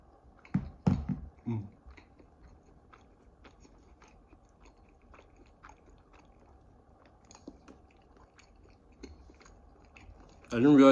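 Close, soft chewing and crunchy bites on a breakfast burrito's crumpled tortilla end, with louder bites early on and then quieter mastication continuing, ending in a brief louder rustle.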